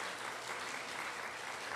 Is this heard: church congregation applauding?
yes